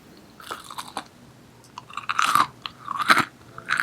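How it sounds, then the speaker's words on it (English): Crispy, crunchy edges of freshly baked buttermilk biscuits crackling as they are bitten or broken, several sharp close-up crunches in quick bursts with quiet gaps, no talking. "the outside have these almost crispy and crunchy edges"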